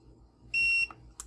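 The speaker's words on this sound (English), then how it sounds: "press and hold the set button until you hear a beep." A single sharp electronic beep from a TechnoRV TST 507 tire pressure monitor, steady and piercing, lasting about a third of a second, followed by a couple of faint short chirps over quiet background hum.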